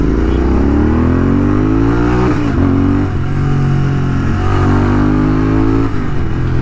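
A modified Royal Enfield GT650 motorcycle is ridden on a road at night. Its engine gives a loud, close, steady drone, with the pitch climbing through gear changes and revs and no voices.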